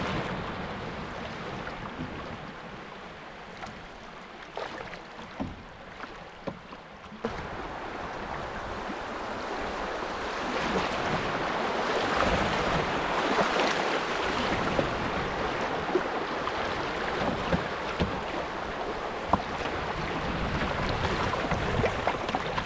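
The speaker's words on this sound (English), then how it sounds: "couple sets of rapids up here." Rapids on a backcountry river rush in a continuous broadband roar, steady and fairly close, swelling slightly louder partway through with no voices.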